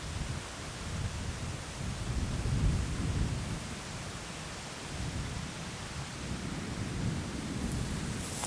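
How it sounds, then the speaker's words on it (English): Thunderstorm rolling toward a remote canyon, a steady broad wash of rain and low rumbling thunder that swells in the middle and lingers as distant continuous noise, with no voices. "I don't think there's any way that we avoid this storm, so we'll keep fishing till it's on us"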